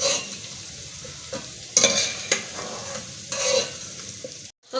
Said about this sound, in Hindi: अब मैं प्याज करूँगी फ्राई